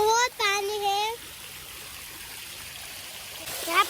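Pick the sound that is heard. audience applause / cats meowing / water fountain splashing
water fountain splashing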